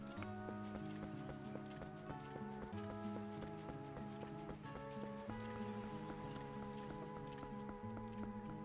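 Epona, the horse in the video game Zelda: Twilight Princess, gallops with steady clip-clop hoofbeats under layered game music, even and moderately loud throughout.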